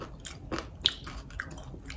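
Juicy candied mango bitten and chewed up close, with a few sharp crunchy bites and wet squishy mastication over two seconds, no talking.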